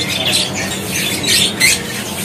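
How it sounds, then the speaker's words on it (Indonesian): A long-tailed shrike (pentet) calls from a bird-market kiosk, giving repeated harsh, raspy squawks in bursts over a dense, noisy background. "Untuk burung pentet nih ya, yang udah pantauan gacor."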